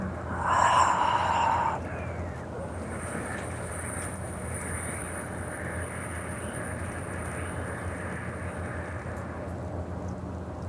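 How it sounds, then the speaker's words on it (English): Ujjayi breathing during a yoga-style energy session: one long, audible breath lasting about two seconds, followed by near silence with a faint steady hum. "Ujjayi breathing."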